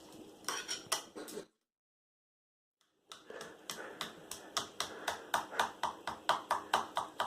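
Cake batter is stirred in a bowl with a utensil, giving rhythmic close scraping and clinking strokes, a short pause, then a faster steady run of repeated taps against the bowl.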